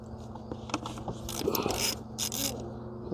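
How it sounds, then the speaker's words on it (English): Ratchet clicking as 10 mm perimeter bolts are loosened on an engine valve cover, quick close metallic pawl ticks in short bursts with faint scraping. "now we're ready to remove this valve cover. 10 millimeter are the perimeter bolts."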